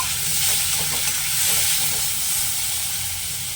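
Tomato halves and pieces are stirred into spices frying in a pan for a home-style chana dal with egg and potato, giving a steady close sizzle and hiss with soft scraping of the stirring throughout.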